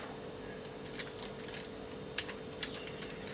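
Fingers type on a computer keyboard, producing quiet, irregular clicks with a few sharper key taps over a steady background hiss.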